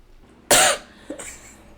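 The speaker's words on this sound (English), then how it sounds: "It's the dry cough for me." Two short, dry coughs, the first sharp and loud, the second smaller and rougher, with quiet between them.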